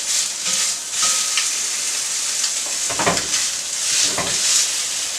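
A lean filet mignon sears in an oiled pan, giving a bright, steady sizzle close by with a few louder crackling bursts partway through.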